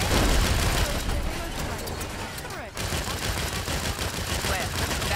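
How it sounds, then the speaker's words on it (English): Video game gunfire from Saints Row aimed at a convoy: dense, continuous bursts of automatic weapons fire with a brief drop midway, loud and close, mixed with game voices. "Why am I seeing gunfire at the back of that convoy?"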